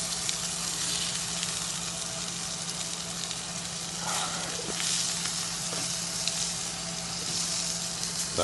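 Food sizzles on a Weber Q griddle, a steady close frying hiss with a few faint scraping stirs, no one talking.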